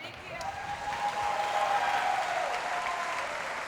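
A crowd at the 2019 Rogue Invitational CrossFit competition bursts into loud, sustained applause and cheering, swelling after a moment and holding steady, with a voice faintly over it.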